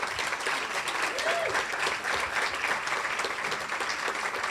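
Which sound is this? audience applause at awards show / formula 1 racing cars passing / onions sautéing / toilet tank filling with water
audience applause at awards show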